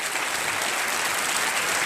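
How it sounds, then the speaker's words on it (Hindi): A studio audience on a television quiz show applauds steadily and loudly, a dense wash of clapping that holds evenly throughout without a break. "तालियों के साथ इनका एक बार फिर अभिनंदन हम करते हैं"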